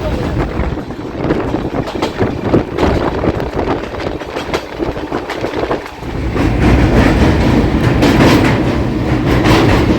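The Howrah Barmer Express rumbles toward Old Delhi station with loud, steady wheel clatter and a rhythmic clickety-clack. The sound swells louder partway through, close up and without a break.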